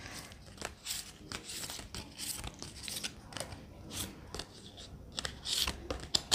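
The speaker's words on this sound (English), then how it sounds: "I'll shuffle the nature cards for you" Nature cards are shuffled by hand, giving a series of soft, irregular papery riffles and slaps, fairly quiet and close.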